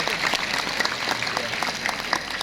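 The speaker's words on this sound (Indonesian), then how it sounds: "Harus tepuk tangan untuk Sayyid Sulaiman." At a religious gathering welcoming Ramadan, an audience claps for Sayyid Sulaiman, a brisk patter of many hands at moderate volume with distinct individual claps standing out.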